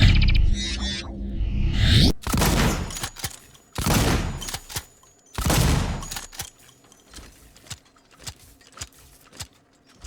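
Shotgun blasts from the sci-fi survival horror game Alien Isolation: several loud, booming shots at irregular intervals, each followed by mechanical pump-action clacks and clicking handling sounds between them, with no talking.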